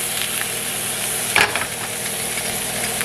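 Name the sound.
oil frying in hot pan with ribeye steak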